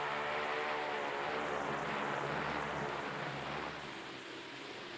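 Propeller airplanes take off for an Antarctic mapping flight along the Phantom Coast, a steady, droning engine hum with a throbbing low pulse, continuous and fairly faint, with no talking.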